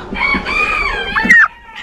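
A hen in a coop gives a loud, close, drawn-out cluck, a warbling call rising and falling for over a second before breaking off.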